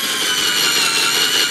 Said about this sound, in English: you drill out the rivets with the number 25